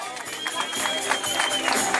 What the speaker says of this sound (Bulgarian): аплодисменти за Красен Желев от Евко Рейсинг Казанлък